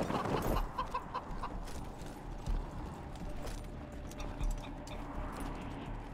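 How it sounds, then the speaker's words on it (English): A chicken clucks in the video game Wasteland 3, soft repeated clucks with light mechanical clicks and footstep-like taps in a quiet game scene, no speech over it. "I'm walking around with a chicken."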